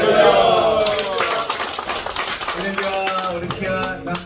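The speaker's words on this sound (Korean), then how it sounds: "박수와 할렐루야와 함께 환영해 주십시오." Church congregation applauding to welcome a pastor to the pulpit, a dense wash of clapping filling the room and tapering slightly, mixed with a few raised voices and cheers.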